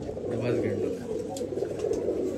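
A male Dubas pigeon coos in low, throaty, rolling notes at close range, with people talking in the background.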